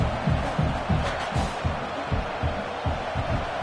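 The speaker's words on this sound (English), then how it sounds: "listen to this crowd noise. This stadium is vibrating" Stadium crowd roaring in the College Football 26 video game, a Texas versus Oregon night game: a loud, dense, continuous wash of cheering with a rhythmic pulsing, like stomping or chanting, running throughout.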